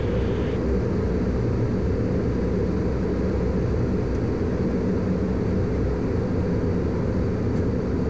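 Small airplane in flight on approach, flaps and landing gear lowering, giving a loud, steady broadband engine and wind roar that fills the whole stretch with little change.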